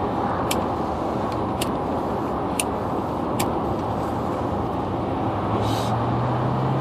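Road traffic rolls past in a steady, loud roar of tyres and engines, with a heavier vehicle rumbling in near the end and a few faint high clicks, and no talking.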